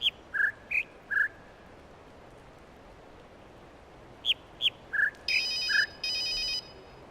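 Short electronic ringing chirps sound in a jungle area of the video game The Witness, several separate beeps followed by two longer sustained trilling rings, fairly clear over a quiet background.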